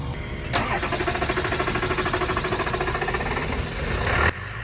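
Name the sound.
diesel truck engine turning over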